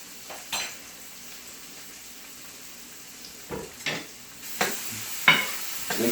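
Minced garlic is stirred in a pan while steamed buttery red snapper is being prepared. A faint sizzle runs underneath, and a spoon scrapes and clinks against the pan in scattered short strokes that grow busier toward the end.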